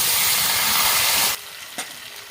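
Potatoes hit hot mustard oil in a wok with a loud, steady sizzling hiss that cuts off abruptly, followed by a faint clink.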